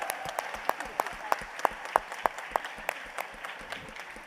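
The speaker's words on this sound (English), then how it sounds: "a big round of applause for everyone here" Sparse applause from a debate audience at a BSE Mumbai event: a thin patter of distinct, sharp claps at a quick rhythm, moderately near over a quiet room, thinning toward the end.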